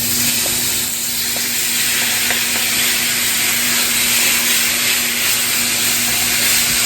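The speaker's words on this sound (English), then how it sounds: "We need to brown our ground beef." 80-20 ground beef browns in a pan with a loud, steady sizzle and hiss close up, broken by faint scraping ticks, with no voices.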